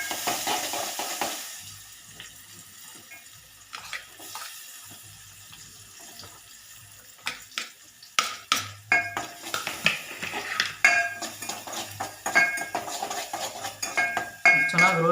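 Onions roasting in oil and ghee in a pan, stirred with a metal utensil, giving quiet sizzling and then a run of sharp scraping and clinking that grows busier and louder toward the end, with no talking.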